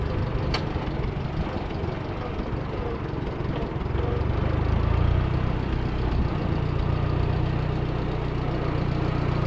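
A Super 44 tractor engine runs steadily with a loud, continuous low rumble and a slight rise in intensity partway through, with no talk over it.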